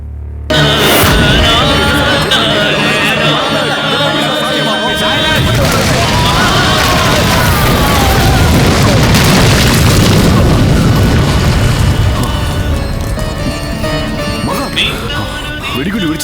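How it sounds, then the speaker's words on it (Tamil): A bomb detonates in the climax of a Tamil action thriller film, erupting into a long, loud, booming blast with rumbling debris and a dense roar, with voices mixed into the chaotic soundtrack. "வெடிகுண்டு வெடிச்சது நம்மள கொல்றதுக்கா?"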